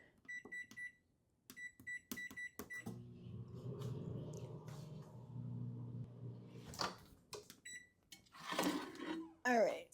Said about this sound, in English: So I'm gonna put this in the microwave here.